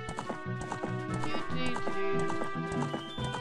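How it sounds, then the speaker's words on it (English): Epona the horse in the video game Ocarina of Time trots with steady clip-clop hoofbeats over a layer of game music, with a possible brief whinny in the middle. "Whenever you use Epona's song, the horse will just come to you."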